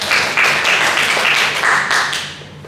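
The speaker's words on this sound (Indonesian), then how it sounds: "Tepuk tangan untuk kita semua karena sudah." Students applaud in a university classroom during a microteaching session, clapping in loud, rhythmic bursts that fade toward the end.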